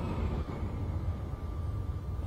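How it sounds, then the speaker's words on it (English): A freight train rolls past in the Train Simulator 2016 game on the Cologne–Düsseldorf route, a steady low rumble and rail drone holding for the whole stretch, moderately close and without talk. "Oh, it's a freight train over there."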